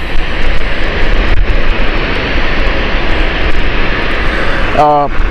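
A Lufthansa airliner arriving from Frankfurt at Gatwick gives a loud, continuous engine roar that fills the scene, with a brief tonal chirp near the end.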